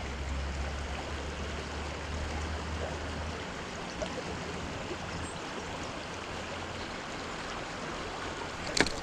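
Steady rushing of creek rapids in a trout stream, a broad, even wash of flowing water close by, continuous throughout with a low rumble early on and a brief splash near the end, no talking.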